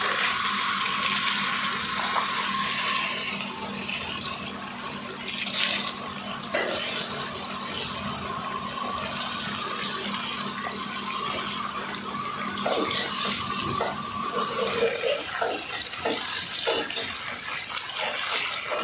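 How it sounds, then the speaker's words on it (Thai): Water pours steadily onto a newly planted tree, a continuous splashing rush like a running hose or tap, close and fairly loud with no talk. "ปลูกเสร็จเรียบร้อยนะครับก็หดน้ำเลยนะครับ"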